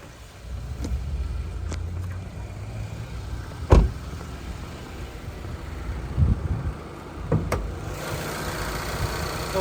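A 2020 Hyundai i30 engine idles with the hood open, a steady low hum with a few sharp clicks and knocks on top, heard close and with no talking.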